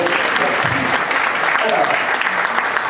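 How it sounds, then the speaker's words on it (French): Warm audience applause for a colonel named Merlin at a talk on the immune system, a full, steady burst of clapping at close range that stays even across the short span with some crowd noise underneath. "une belle main d'applaudissement pour Merlin"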